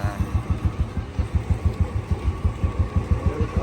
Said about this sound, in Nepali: साइलेन्सर चाहिँ ओरिजिनल छ फेरि अहिले है साउन्ड चाहिँ मिठो छ